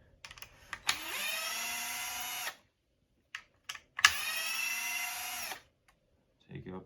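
A cordless power tool removes screws from a Traxxas RC car chassis during a drag build, whirring in two sustained bursts of about a second and a half each, with small clicks and handling noises between them.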